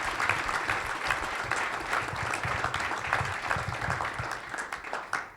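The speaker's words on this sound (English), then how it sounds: "please give them a round of applause for that" A large audience at a board of directors briefing gives a sustained round of applause, dense steady clapping filling the room throughout without a break, heard from a moderate distance.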